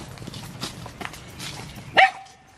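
A dog gives a single sharp bark near the end, after a stretch of low outdoor bustle and movement.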